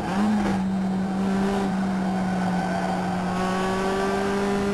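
A race car engine in the iRacing simulator holds a steady, droning hum at near-constant revs, loud and continuous, with slight pitch shifts as the car runs through a lap; no voices.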